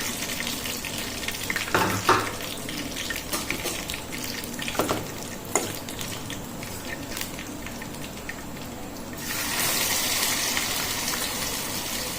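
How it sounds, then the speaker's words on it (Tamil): Chicken pieces for a dry fry, poriyal style, frying on a low flame in a pan, with a steady broadband sizzle and a few sharper stirring scrapes, growing louder and denser near the end. "சிம்மில் வச்சு பொரிச்சு எடுத்துடலாம்"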